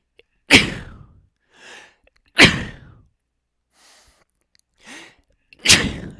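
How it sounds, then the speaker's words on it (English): Three loud, explosive sneezes from one person, close up, each preceded by a quick inhaling gasp and separated by short pauses. "Me sneezing."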